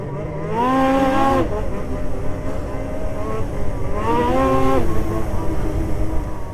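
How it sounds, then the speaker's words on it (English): A Lynx Rave 3500 snowmobile revs hard on a trail ride, the engine loud and near, rising and falling in two strong acceleration bursts with steady droning between, no talking. "So just out on my buddy Darren's Lynx, and this thing's absolutely awesome"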